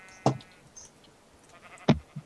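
Two short sheep bleats from the Minecraft video game sound out over a quiet background, each one sharp and separated by more than a second.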